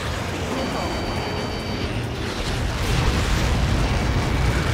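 A large blast from Helios projectiles impacts in the Ace Combat 7 combat flight game, a dense, rumbling roar that swells louder midway and holds steady, with a faint radio voice underneath.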